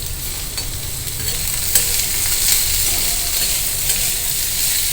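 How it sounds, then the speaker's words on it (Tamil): Boiled beans and carrot with salt stir-fry in a pan with a constant close sizzle, while a spoon scrapes and knocks against the metal in occasional sharp clicks. "நல்லா மிக்ஸ் பண்ணிட்டோம்"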